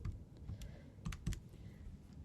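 Several quick keystrokes on a computer keyboard, faint and close, with light irregular clicks and no talking.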